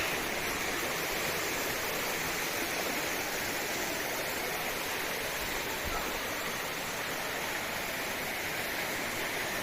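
A waterfall roars steadily nearby, a dense, continuous rush of falling water with no pauses.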